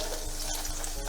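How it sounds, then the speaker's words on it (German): Vegetables sizzle as they fry in a pan, and stirring adds light scraping. The crackle is a steady, close hiss with no talking over it. "wird hier das restliche Gemüse angebraten in der gleichen Pfanne"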